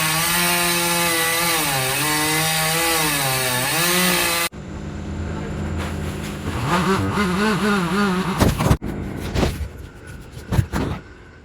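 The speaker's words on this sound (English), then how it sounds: "I hear some chainsaws outside." Chainsaws whine loudly and steadily, their pitch rising and falling as the engines rev, first continuous then choppier with rough cutting noises.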